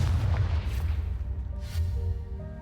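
Confringo fire spell blast in Hogwarts Legacy, a deep booming burst with a rumbling low-end tail, followed by further thuds and a sustained explosive roar, loud and without talk.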